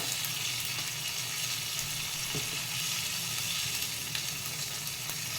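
Asafoetida sizzles in hot oil during tempering for a Telugu chintakaya dondakaya roti pachadi, giving a continuous bright, hissing crackle at an even level with no talking.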